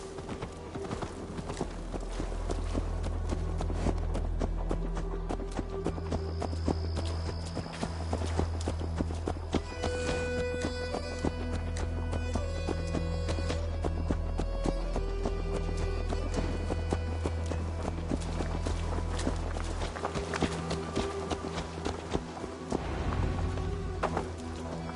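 Horse hooves clip-clop steadily in the video game Assassin's Creed Valhalla, a continuous rhythmic beat lasting throughout and mixed with in-game music and ambience.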